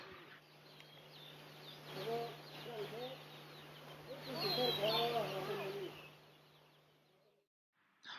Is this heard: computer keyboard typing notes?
no